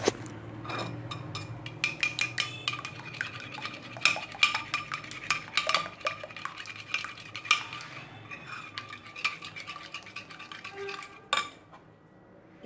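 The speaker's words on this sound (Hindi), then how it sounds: "अब आपने ये दही लेके इसको अच्छे से फेंट लेना है।" A spoon or whisk beats yogurt in a bowl for tomato chutney, giving a steady run of quick ringing clinks and scrapes against the bowl, close up and moderately loud, with no talking.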